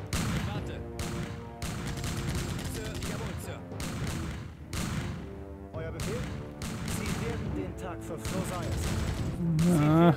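Artillery in the strategy game Empire Earth lands repeated booming shots and crackling volleys, dense and fairly loud. Background music plays throughout and someone talks over parts of it.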